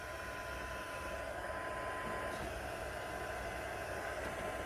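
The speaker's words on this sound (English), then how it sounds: "I'll get a dryer. It can reach all the way here. It's much faster." A hair dryer blows steadily on freshly applied Nitram liquid charcoal paint, a continuous loud whooshing hiss that runs unbroken from start to finish with no talking.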